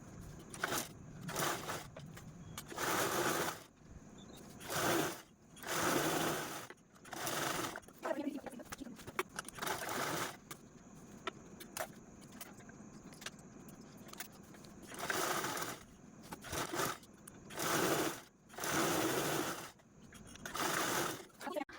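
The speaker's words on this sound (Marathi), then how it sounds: "दोन्ही कडेच्या बाजू आहेत ते आपल्याला अगोदर स्टिच करून घ्यायचे" A domestic sewing machine stitches the side seams of a purse made from one rectangular piece of fabric, running in repeated bursts of a few seconds each with short quiet pauses between, fairly close and steady.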